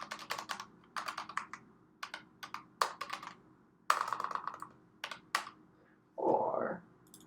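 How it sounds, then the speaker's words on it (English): Typing on a computer keyboard during a beginner Python coding session, with bursts of close, crisp key clicks in short runs separated by pauses, ending in a brief louder rustle. "I'll just type something."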